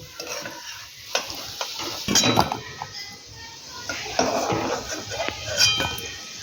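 Elephant foot yam pieces fry in hot oil with a soft sizzle, while a spoon stirs, scrapes and clinks against the metal pan in irregular bursts.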